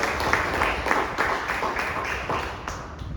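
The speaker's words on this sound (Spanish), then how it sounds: "Pueden darle un aplauso al Señor, hermanos." A church congregation applauds during a Spanish-language worship service, with loud, fairly rhythmic group clapping in regular pulses that continues steadily throughout.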